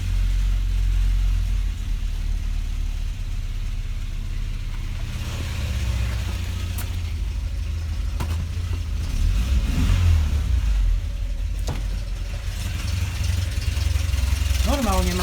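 A Škoda 105L, long out of use, runs after starting, its engine idling with a low rumble and occasional revs rising and falling; a person talks at moments over the motor.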